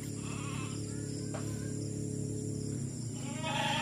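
Sheep heading home from pasture at a livestock farm, with bleats rising over a steady outdoor background; the calls are moderate and slightly distant, one call is clearer near the end.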